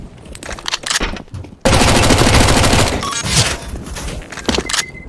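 Rapid automatic gunfire from a video game shooter, an AK rifle among the weapons, bursts into a loud sustained stream of shots after a few scattered earlier pops, then trails off into sporadic single shots.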